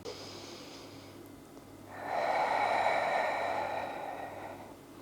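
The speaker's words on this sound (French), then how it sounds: "Dernière grande respiration." Deep breath during a beginner full-body Pilates exercise: a soft breathy exhale swells after a quiet start, holds steady for a couple of seconds, then fades gently, close and alone.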